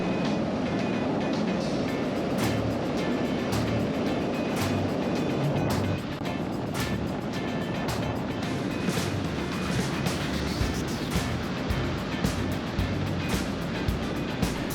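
Adventure motorcycle, an Africa Twin, crossing Bolivia's Uyuni salt flat toward Isla Incahuasi, its engine drone buried under constant, loud wind roar with occasional buffeting thumps throughout.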